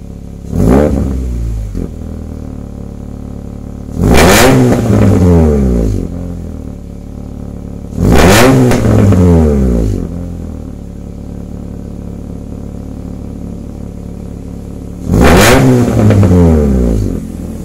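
A Honda Jazz GK5 with a CVT revs hard in four separate loud bursts, each rising sharply and then falling back to a steady idle between them.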